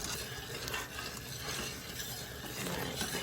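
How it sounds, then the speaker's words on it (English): Boiling jalapeno pepper jelly stirred in a pot, a dense steady bubbling hiss with spoon scraping and rubbing against the pot, close and continuous. "We're going to stir it until we can't stir down the boil."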